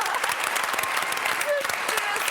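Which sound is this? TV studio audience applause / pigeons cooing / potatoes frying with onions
TV studio audience applause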